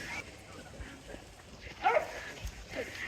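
Dogs bark somewhere off in the distance on an outdoor walk, a few faint yips rising briefly above a steady wash of background noise.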